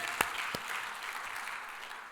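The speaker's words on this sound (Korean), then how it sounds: "하나님께 영광의 박수" A church congregation breaks into sustained applause during a sermon. It opens with a couple of sharp claps, then settles into a steady wash of many hands clapping, moderately loud and somewhat distant, with no voices over it.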